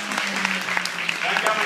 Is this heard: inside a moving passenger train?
no